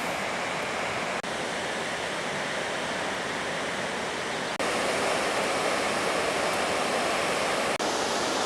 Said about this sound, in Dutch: Daar even een waterval.